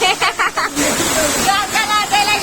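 Heavy rain pours down in a steady broadband hiss, loud and close, with voices briefly audible over the downpour at the start.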